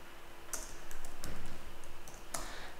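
Keys clatter on a computer keyboard while CSS code is typed, a rapid, even stream of close clicks with a couple of sharper taps standing out.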